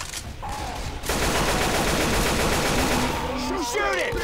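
Sustained heavy automatic gunfire at the Tank in Left 4 Dead 2's Dark Blood 2 finale, a loud unbroken barrage after a short lead-in, with voices shouting over it near the end.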